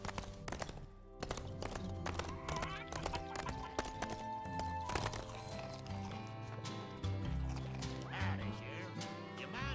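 In the Toy Story 3 video game, the horse Bullseye trots with a rhythmic, rapid clip-clop of hooves. The sound runs throughout, quiet and steady, over a background of game music.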